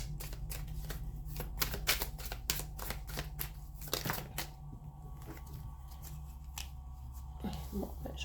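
Tarot cards being shuffled and drawn by hand, a close run of crisp, quick card snaps and flicks that thins out into scattered soft slides.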